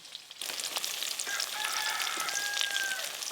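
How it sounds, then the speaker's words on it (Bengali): Fish fritters frying in hot oil, a steady bright crackling sizzle that starts suddenly and continues loud and close, with faint high tones briefly audible in the background. "আজকে মাছগুলো যেভাবে ভাজছে যেন পেঁয়াজি লাগছে"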